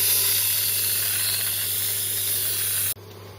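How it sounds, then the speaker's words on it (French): Aerosol whipped cream can sprayed empty into a bowl for a dessert recipe: a steady loud hiss lasting about three seconds, then cutting off abruptly. "vous allez vider la bombe dans le récipient"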